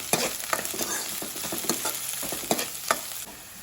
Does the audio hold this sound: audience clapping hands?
no